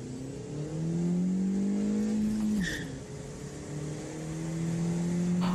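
A car engine revs hard and close, its pitch climbing steadily then dropping sharply with a brief high squeal, before a second rev builds again toward the end.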